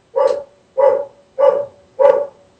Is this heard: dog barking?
yes